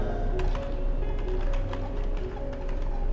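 A child of about eight types quickly on a computer keyboard during an English typing test. The keys make steady, fairly quiet clicks in an irregular rhythm against a low background hum.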